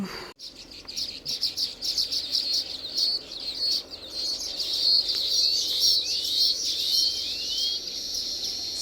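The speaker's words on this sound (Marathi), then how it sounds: "सुगरण पक्षी घरटं बनवतात" Many baya weaver birds chatter and chirp together in dense, overlapping high calls, continuous and fairly close, with a steady low outdoor background.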